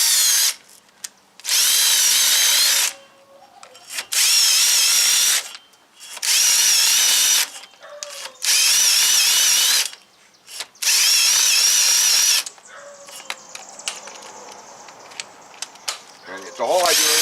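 A power drill spins a Hub Buddy cleaning attachment against the wheel hub of a 2018 Jeep Wrangler Unlimited Sport, in about six loud, close bursts of several seconds each with short pauses between them, then quieter handling noise.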